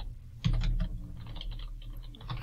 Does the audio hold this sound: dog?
no